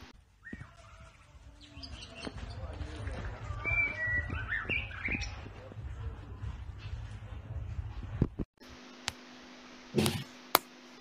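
A small pet bird in a round cage gives scattered faint chirps and tweets over a low background hum and rustling, followed by a quieter stretch with a few sharp clicks and thumps.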